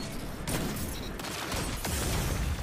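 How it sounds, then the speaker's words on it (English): Grenade launcher fire in a first-person shooter game, with several sharp shots and bursts over a dense, noisy battle backdrop, fairly close and loud. "Nice grenade launch shot"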